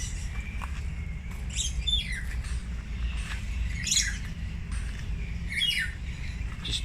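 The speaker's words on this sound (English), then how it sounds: "Just loads of different birds, like all different colours." Assorted birds call at a nature park in Port Moresby, Papua New Guinea, with several bright chirping and squawking bursts at irregular intervals over a steady low background hum, no one speaking.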